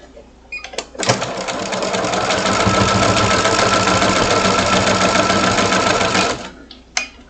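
A sewing machine runs in one continuous burst of about five seconds, its needle chattering rapidly and evenly through fabric, with brief handling clicks before and after.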